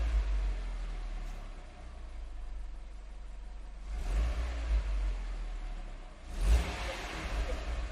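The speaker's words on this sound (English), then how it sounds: "let me start the car" A car engine starts and settles into a low idle, then revs up twice in short swells before dropping back to a quiet rumble, heard from inside the vehicle.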